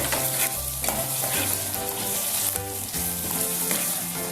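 Garlic ginger paste sizzles and fries in a hot pan, a steady crackling hiss close by, with quiet background music and no talking.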